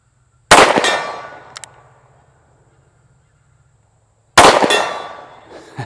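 Two loud gunshots from a Rock Island Armory Model 200 revolver fired at steel targets 50 yards away, each a sharp crack followed by a faint metallic ring and a long decaying echo outdoors, spaced about four seconds apart.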